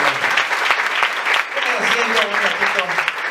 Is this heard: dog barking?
no